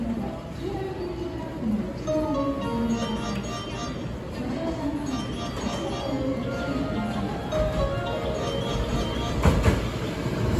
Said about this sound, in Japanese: まもなく1号線に神戸三宮方面に向かう電車が到着します。